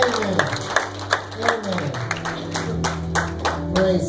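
A church congregation claps together in a steady rhythm of repeated hand claps over a held musical tone, loud and close, with murmured voices mixed in.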